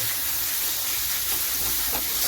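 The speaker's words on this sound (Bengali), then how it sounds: "এবার এই মশলাগুলোকে খুব ভালো করে আমি ভেজে নেব" Spices with Kashmiri chilli fry in oil for a mutton bhuna masala, giving a steady, broad hissing sizzle that holds close and fairly loud without pause and without speech.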